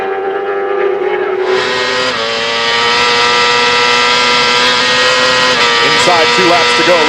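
Supersport racing motorcycles at Brainerd International Raceway scream down the long front straightaway during a 2004 AMA Supersport race, a loud sustained high-revving engine whine with shifting pitch, under race commentary.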